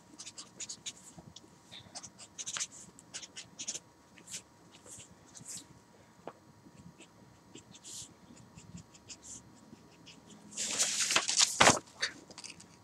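Pencil or pen scratching out measurements on paper in short strokes, soft and close, with a louder rustle of the sheet near the end and quiet talk throughout.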